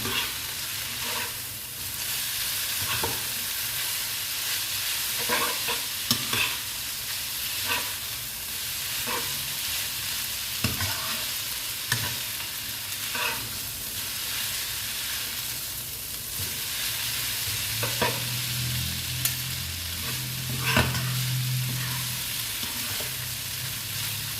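Mee sua noodles are stir-fried in a pan, a continuous close sizzle broken by repeated scraping stirs and soft clacks of a utensil against the pan, with no voices.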